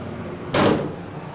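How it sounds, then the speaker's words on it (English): A Schindler 300A hydraulic elevator cab door slams shut with one sharp, loud, close bang, followed by a short decaying rumble inside the cab. "And that door slams shut."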